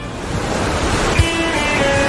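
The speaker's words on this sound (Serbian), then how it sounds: "ogromni vodeni talas, nije fair" A huge water wave in a cartoon rushes as a steady, loud roar of surf, with a brief thump midway through.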